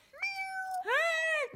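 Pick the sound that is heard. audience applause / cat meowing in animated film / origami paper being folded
cat meowing in animated film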